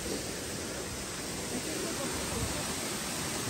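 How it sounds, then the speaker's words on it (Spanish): A waterfall roars in a constant, dense rush of falling water, steady and loud throughout with no breaks or other clear sounds on top. "llegamos a la joya de la corona, la cascada"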